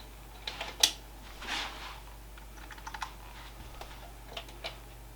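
Fingers tap a computer keyboard in sparse, uneven clicks with a few louder strokes, close and fairly quiet over a low steady hum in a room where an auction-bought PC is being set up.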